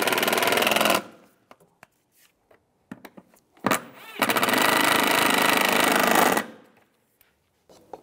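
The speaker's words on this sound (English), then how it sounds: "Tighten these down." A power tool drives down airbox screws on a 2006-2011 Cadillac DTS, with two loud sustained whirring runs separated by small clicks and handling taps, close up.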